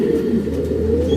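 Snow white homing pigeons cooing close by, a continuous low throaty coo running through the whole short moment with no talk.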